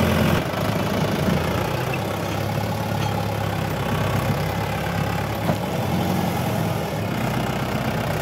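A tractor engine runs steadily through a swampy, muddy field, giving a continuous low, rumbling idle-like drone that stays loud and even throughout, with no voices.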